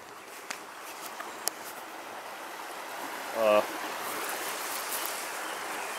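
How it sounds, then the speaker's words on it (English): A shallow creek flows steadily around someone wading in ice-cold water at dusk near a fishing hole, making a soft continuous wash with a few faint clicks and one brief louder splash or knock partway through. "going for a walk in the creek."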